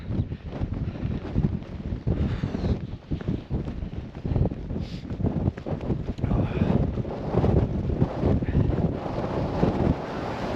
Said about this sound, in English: Bit windy though.